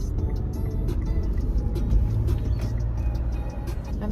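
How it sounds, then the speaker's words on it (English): Car on a road trip around Australia heard from inside, a steady loud low engine and road rumble droning without a break, with no talk over it. "I'm driving to the Edwards house"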